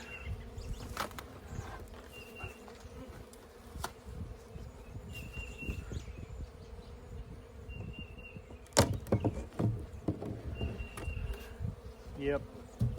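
Honey bees buzz around an opened hive, faint intermittent whines passing near and away over a low background, with occasional clunks of hive parts being handled.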